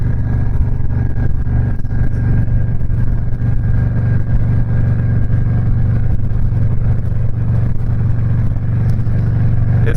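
A custom Stage III Harley-Davidson Sport Glide motorcycle engine runs at a loud, steady, close rumble throughout, with no speech.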